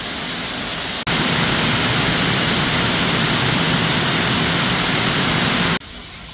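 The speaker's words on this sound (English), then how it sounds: "It is pouring once again in a metal building, so it's hard to hear or think." Heavy rain pours onto a metal shop building in a dense, steady roar of broadband hiss that swells abruptly and holds loud for several seconds before dropping back.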